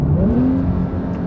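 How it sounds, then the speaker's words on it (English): Porsche 911 Turbo S engine accelerating hard in maximum attack mode, a loud, close, rising engine note with a deep rumbling roar that keeps building without pause. "and for 20 seconds you get the whole car just in maximum attack mode"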